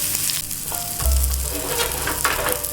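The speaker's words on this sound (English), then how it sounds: "This is the water now evaporating." Steady, loud sizzling of steak frying in a hot pan as its water evaporates, a dense crackling hiss with occasional sharper pops and a low rumble beneath.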